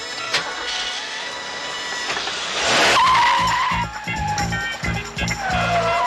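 A car revs and drives off with a long tire skid, loud and close, then engine noise continues with rhythmic thumping.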